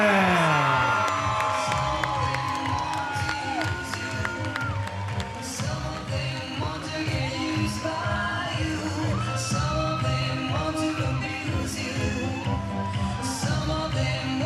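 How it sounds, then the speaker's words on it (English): A crowd at a fight event cheers, whoops and applauds the winner, loud and sustained with music playing underneath, a continuous roar of voices and clapping that stays strong to the end. "a round of applause for your winner this evening, Sweet Dreams, Logan Tillman."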